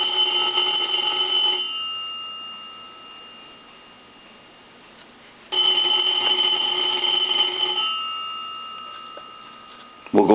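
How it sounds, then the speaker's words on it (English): An old three-slot payphone's bell rings in two long bursts with a pause between them, loud and metallic against quiet background hiss. "we want to ring the phone"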